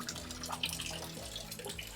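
A water fountain on a covered patio splashes and trickles continuously, close by and moderately loud, with a steady watery texture and no voices.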